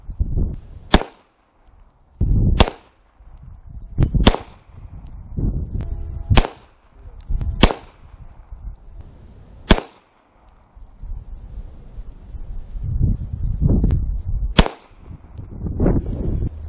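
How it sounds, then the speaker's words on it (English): Pistol gunshots fired outdoors, about eight sharp loud cracks spaced unevenly over the span, each followed by a short decay and low rumble, with quieter handling noise between shots. "We'll try that with the pistol."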